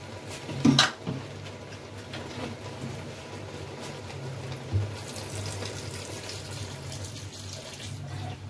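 Boiled water strained from saag (greens) in a village kitchen, a soft steady trickle and splash of liquid with a couple of brief clinks from a utensil near the start, fairly quiet and close.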